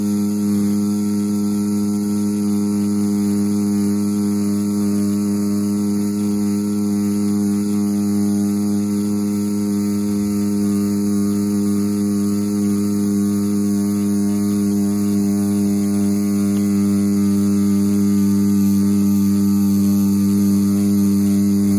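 A CNC Q3 tattoo machine running steadily, a loud, continuous electric hum and buzz close to the listener, unchanging in pitch for the whole stretch with no voices.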